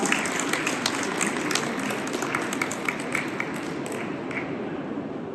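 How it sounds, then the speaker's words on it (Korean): A fairly faint, even patter of audience applause fills a hall at the 2024 Gyeongbuk food expo during an opening address, steady and unbroken for a few seconds with no talking. "큰 박수 한번 쳐드리시기 바랍니다"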